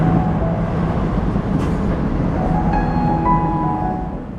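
A subway train near Hoegi Station in Seoul rumbles past with a loud, continuous roar and metallic rail noise, a faint squeal rising near the end as it fades slightly.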